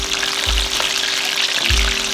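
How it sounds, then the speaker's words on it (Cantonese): Pieces of meat deep-frying in reheated hot oil, a steady close sizzle and crackle with two low thuds as pieces drop in, no voices. "高油溫炸一下"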